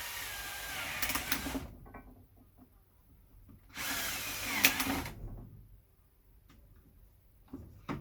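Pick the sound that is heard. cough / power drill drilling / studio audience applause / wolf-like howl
power drill drilling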